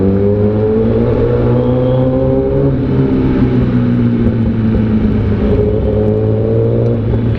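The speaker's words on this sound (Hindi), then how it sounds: "पूरा आवाज़ गूंजती है बाइक की" A Kawasaki ZX10R superbike engine idles and revs in a covered, enclosed space, a loud steady drone with rising and falling harmonics that echoes off the surroundings throughout.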